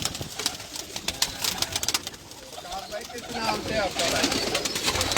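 Pigeons on a rooftop loft coo in a continuous low murmur, with scattered wingbeats and rustling, while someone speaks briefly nearby.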